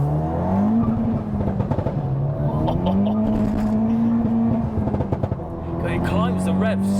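A 420BHP FK8 Honda Civic Type R, front-wheel drive, holds a loud, steady engine drone with the pitch stepping up and down as revs shift. Voices talk over it throughout.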